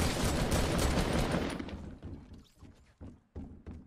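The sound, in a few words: new gun firing in Fortnite video game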